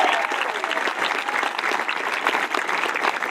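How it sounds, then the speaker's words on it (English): A graduation audience at the Lecanto High School 2018 ceremony applauds in a dense, steady wash of clapping that holds at full strength for the whole stretch, loud and close with no pauses. "Can we have another round of applause for my friend Catherine for an absolutely awesome"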